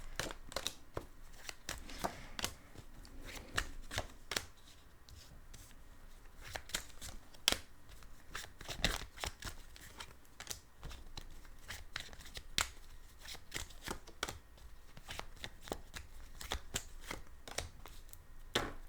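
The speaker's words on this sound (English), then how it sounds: "let me just lay out the cards" Tarot cards being shuffled and laid out on a table, a steady stream of soft riffling, flicking and papery slaps, close and fairly quiet, with no voices.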